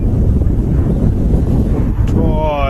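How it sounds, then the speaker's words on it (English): Heavy wind gusts batter the microphone at an airport, a loud continuous rumbling roar with a faint whine rising near the end. "It's heavy gusts, isn't it?"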